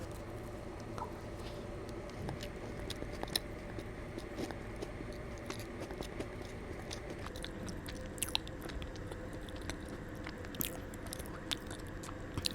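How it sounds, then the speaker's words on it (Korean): Someone bites and chews a whole wheat protein bakery snack up close, with soft, steady, moist crunching and mouth sounds over a low room hum and no talking. "먹어보겠습니다"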